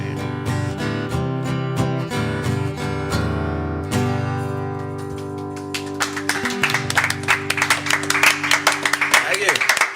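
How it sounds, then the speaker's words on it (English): Audience applause breaks out in a dense crackle of clapping as a sung tune ends, with the music fading out beneath the clapping. "It's the most applause I've got all week."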